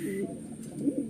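Large pigeons cooing in a loft where birds are kept and sold, a low throaty rolling coo repeating close by with no talking.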